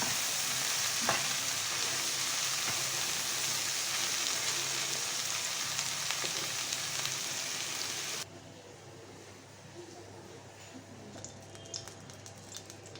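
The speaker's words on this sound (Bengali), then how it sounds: "হলুদ কড়া করে ভেজে নেব" Turmeric frying hard in a pan, a continuous close crackling sizzle that drops abruptly to a quieter, softer fizz partway through, with no talking.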